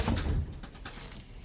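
Breeding pigeons in a loft give soft, low cooing close by, a short muffled burst of coos that fades quickly.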